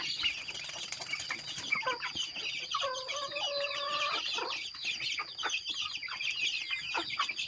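Two-month-old chickens clucking and chattering nearby in a steady stream, with occasional wing flaps and a faint high whine in the background.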